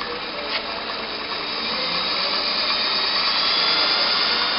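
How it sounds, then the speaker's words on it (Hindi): A DC motor runs steadily with a high whirring hum and a dense buzzing whine, the sound swelling slightly louder after the first second and then holding even, close and alone. "हम DC मोटर को चलाते हैं।"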